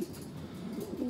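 Racing pigeon cocks cooing in a loft, a soft, continuous low burbling that is faint and steady with no voices.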